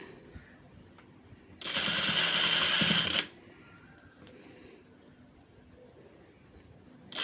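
A sewing machine stitches a straight seam on fabric in one continuous whirring run of about a second and a half, close and clear, then stops, leaving a quiet room.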